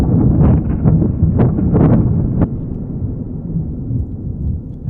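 A thunder patch synthesized in Serum gives a loud, steady, low rumbling roar with a few sharp crackles early on. It sounds much like wind buffeting a microphone.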